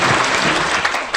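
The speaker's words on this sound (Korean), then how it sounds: "박수로 환영합니다." Loud, close applause from an audience welcoming a former prime minister to the stage at a civic group's launch event, a dense burst of many hands clapping for just over a second.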